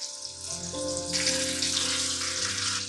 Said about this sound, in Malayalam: അത് നമ്മൾ ഈ എണ്ണയിലേക്ക് തന്നെ നമ്മൾ ഫ്രൈ ചെയ്തെടുക്കുന്നുണ്ട്